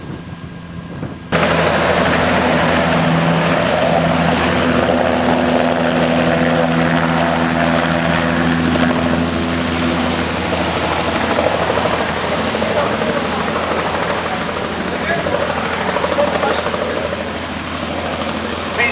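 A medevac helicopter's steady, loud rotor and engine drone runs throughout after a brief quieter start, with faint voices beneath, at a Civil Air Patrol open house.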